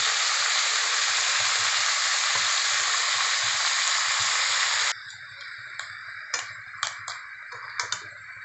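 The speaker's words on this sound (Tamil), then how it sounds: "இந்த அரைச்சி வச்சிருக்கிற மசாலா அதையும் சேர்த்து நல்லா வதக்கி விட்டுருங்க" Crab sautéing in a pan with ground green masala, a loud steady sizzle for about five seconds, then quieter frying crackle broken by sharp spatula taps and scrapes.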